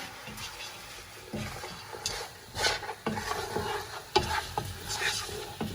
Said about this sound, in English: We're going to go ahead and stir